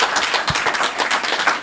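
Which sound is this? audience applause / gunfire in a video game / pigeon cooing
audience applause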